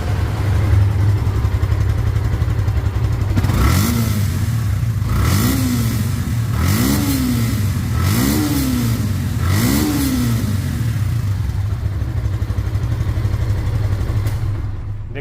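A second-hand FZ-2 motorcycle engine idles close by, then revs up four times in even bursts before settling back to a steady idle.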